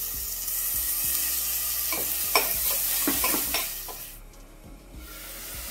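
Chopped tomatoes hit frying onions in a pan for chicken biryani, giving a steady sizzle broken by the scrapes and knocks of a spoon stirring. No voices are heard.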